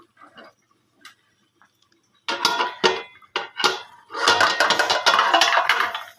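A metal lid comes off a pot of curry, followed by scraping and clattering as a mixture is spooned in. Faint taps come first, then louder, close clinks and rattles.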